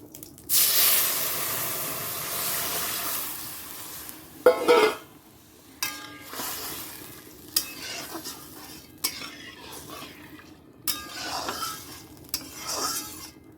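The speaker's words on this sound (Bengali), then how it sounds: "মুসুর ডালটা একটু ফোড়ন দেবো" Dry red chilli and white cumin tempering for masoor dal open with a loud rushing hiss that fades over a few seconds, followed by scattered utensil clinks and stirring scrapes nearby.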